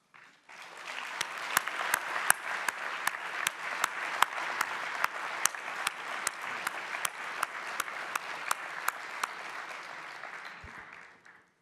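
An audience at the closing ceremony of an international anti-corruption conference claps in sustained applause, a dense wash of hands with scattered sharper claps, holding steady for several seconds before fading out.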